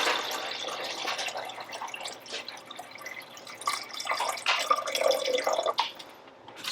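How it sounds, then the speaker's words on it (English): Water poured into a cold brew coffee maker, a continuous close trickle and splash lasting several seconds that grows slightly fuller toward the end before cutting off. "Let's go ahead and add water."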